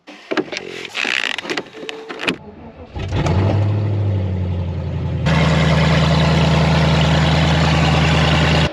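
An LS3-powered Land Rover Defender cranks and fires up, then settles into a loud, deep, steady rumble close by, with the idle stepping up to a higher, busier drone partway through.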